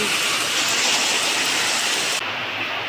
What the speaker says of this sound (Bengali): দেখো বন্ধুরা হঠাৎ বৃষ্টি এলো ঝুম ঝুম ঝুম ঝুম করে বৃষ্টি